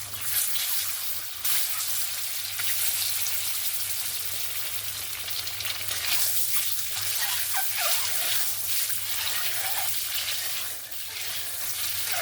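Eggs frying in oil seasoned with salt and turmeric in a wok, a constant hissing sizzle heard up close, fairly even throughout, with a low steady hum underneath.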